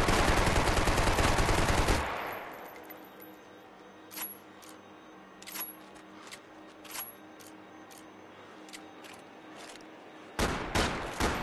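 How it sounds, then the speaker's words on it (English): Gunfire in the Max Payne 3 video game: a dense loud burst of shots at the start, then scattered single distant shots and cracks, ending with another loud close burst. "Laying down fire!"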